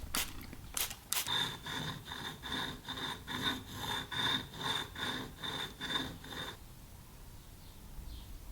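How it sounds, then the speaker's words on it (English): A chisel is pushed back and forth across an old whetstone in a steady rhythmic rasp, about a dozen even strokes with a faint metallic ring, close and quiet, ending abruptly into near silence. "It's time to break out my grandfather's whetstone."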